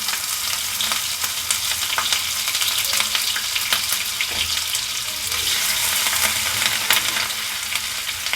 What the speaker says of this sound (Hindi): अब इसके साथ ही इसमें हम ग्रेट किया हुआ अदरक डाल देंगे